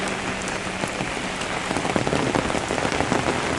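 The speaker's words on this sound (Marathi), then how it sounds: "तर आताही खूप पाऊस पडत आहे" Heavy rain pours steadily, a dense hiss of drops that swells slightly louder toward the end, with no voices.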